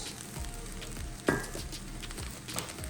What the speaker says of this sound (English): we're gonna go ahead and stir in our seasoning and soy sauce